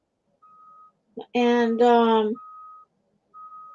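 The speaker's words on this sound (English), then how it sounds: "that beeping is when a big truck is backing up" Reversing beeps from a big truck backing up outside, heard as faint, evenly spaced electronic tones that stop while a nearby voice speaks, then resume.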